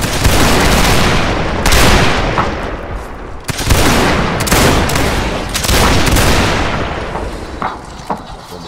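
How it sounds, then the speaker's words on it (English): Repeated musket volleys from a line of infantry in a Napoleonic Wars battle game, Prussia against Austria, loud sustained bursts of gunfire with sharp cracks rolling over one another for several seconds. "Alex is firing a musket."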